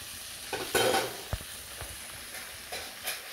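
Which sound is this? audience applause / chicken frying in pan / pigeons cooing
chicken frying in pan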